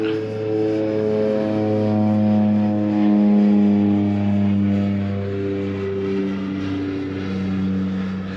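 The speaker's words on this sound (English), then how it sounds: "Sorry about the planes going up overhead. The airport's just above us there." A propeller airplane passes overhead beside an airport on the shore of a Scottish loch, a steady droning engine hum that swells and fades slowly over several seconds with no talking.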